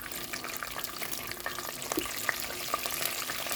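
Pine nuts, pistachios and crushed almonds fry in hot oil in a pan, a soft steady sizzle with scattered tiny pops and crackles, fairly quiet and close, no voices.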